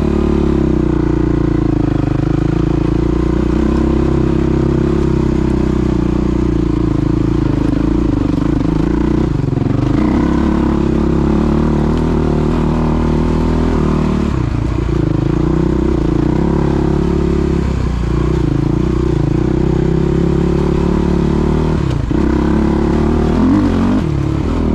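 A Suzuki LTR450 ATV engine runs hard on a trail loop during gear reduction testing, a loud, sustained close-up drone with repeated rises and dips in revs and rattly clatter throughout.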